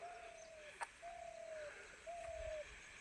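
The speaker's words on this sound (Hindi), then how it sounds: "कितना अच्छा घुघुती घूर रही है" A dove, an Indian spotted dove in Uttarakhand, coos softly three times from a dry tree, each call a drawn-out steady note with short gaps between, against a quiet outdoor background with one faint click.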